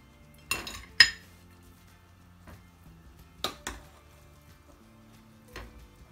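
A spoon clinks against a plate while chicken biryani, cooked in a pressure cooker, is served, with a few sharp metallic taps spread apart and quiet pauses between them.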